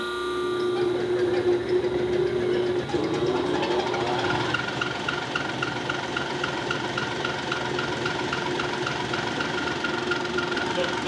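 A CAT 3406B fuel injection pump runs on a test bench with a steady, dense mechanical drone and rapid knocking pulses. The tone shifts about three seconds in, then holds loud and continuous.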